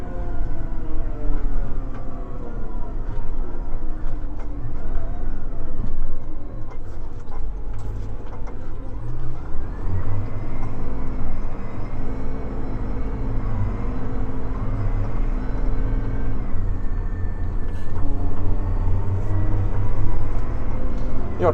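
A Valtra T155 tractor drives along with its engine droning steadily and close, the pitch stepping as its transmission shifts through the gears automatically, with people talking over the engine in places.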